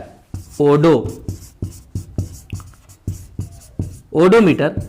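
The word odometer being written by hand, a run of short rhythmic scratching strokes of pen or chalk, close and clear, with someone talking over the start and end.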